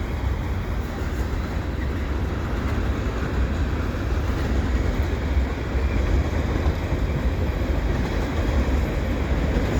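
A CP westbound mixed freight train rolls past the Dorval Ramps during snowfall, making a steady, loud rumble of wagons that holds for the whole stretch with no voices.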